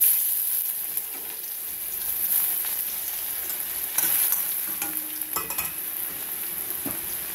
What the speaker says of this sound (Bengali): ফোড়নগুলো একটু ভাজা হয়ে গেলে এবার দেবো রসুন,